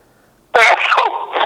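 A single sharp sneeze bursts out close to the microphone after a moment of near silence, trailing into a brief vocal tail.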